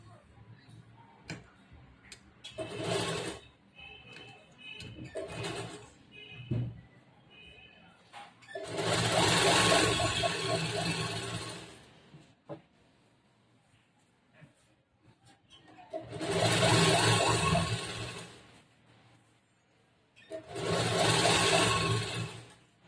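A sewing machine stitches along a folded edge of blouse fabric in four loud bursts of rapid running, separated by quieter gaps with light handling clicks and ticks.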